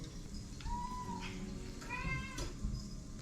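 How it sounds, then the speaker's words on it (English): Several cats meowing on a homestead on a Thanksgiving morning, a few distinct drawn-out meows from fairly close, spaced apart over a low background rumble. "Lots of kitties this morning."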